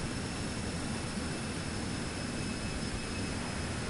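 A jet engine in Microsoft Flight Simulator 2024 on PS5, flying a Citation X or 737 Max, gives a steady, broad roar with a faint high whine. It is constant and fairly quiet at cruise, with no talking.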